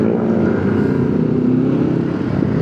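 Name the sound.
motorcycle riding at night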